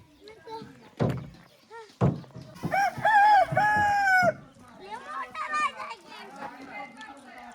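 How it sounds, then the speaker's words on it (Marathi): A rooster crows loudly with a long rising call in the middle, set among clucking fowl and scattered knocks in a village yard, while children and adults chatter around it. "पिवड्या कोंबड्याला धर"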